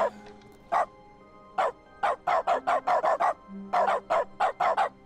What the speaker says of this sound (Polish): Czy trzeba mu po prostu wpisać bark? I Stanley szczeka!